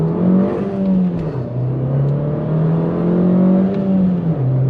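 An Abarth 595 hatchback's engine drones loudly as it accelerates hard at full throttle from first gear in Sport mode, its pitch rising and dipping with gear changes, heard from close inside or near the car.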